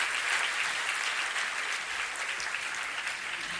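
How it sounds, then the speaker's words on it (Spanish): A church congregation claps together for the Lord, a dense, steady wash of applause filling the room from start to finish without pause. "Sí, quieren darle un aplauso al Señor, háganlo, háganlo."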